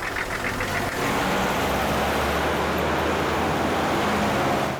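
A car engine revs and pulls away under steady rumbling noise, a low continuous drone that builds after a brief opening burst and carries on evenly with no talk over it.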